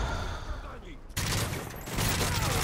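Gunfire in Modern Warfare 3 Spec Ops Survival on the Arkaden map, a dense rattle of rapid shots and explosive bursts that fills the clip loudly and continuously.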